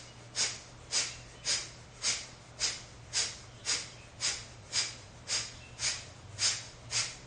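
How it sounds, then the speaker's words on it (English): Kapalabhati yoga breathing during a live yoga class in Hawaii: about twelve sharp, forceful nasal exhales in a steady rhythm, evenly spaced and close, with a low steady hum beneath and no talking. "Let's try Kapalabhati, forceful exhales."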